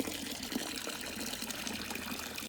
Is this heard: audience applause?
no